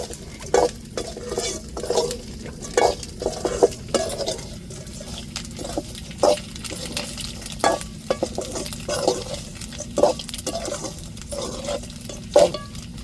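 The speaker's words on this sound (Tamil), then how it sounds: "இந்த பதத்துக்கு நம்ம கருவாட்டா பொறிச்சு எடுத்துக்கிறானுங்க பாருங்க" Dried fish sizzles and crackles in hot oil while a utensil scrapes and clinks against the pan in irregular strokes, close up.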